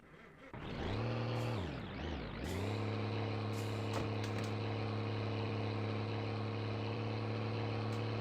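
A stolen truck's engine in the game My Winter Car starts with a low rumble, revs up and down, then settles into a steady, loud, droning idle that holds for several seconds with no talk.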